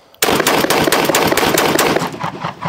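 Rapid shotgun fire from a Fabarm XLR Columba Palumbus semi-automatic, shot from the hand: a loud, dense run of close blasts that starts abruptly and continues for over two seconds, ringing out with no talking.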